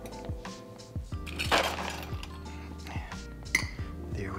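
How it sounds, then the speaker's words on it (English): A cocktail shaker holding a gimlet rattles with ice, giving repeated clinks and sharp knocks, close and fairly quiet, with a louder clatter midway. "let's go ahead and give this a nice little shake."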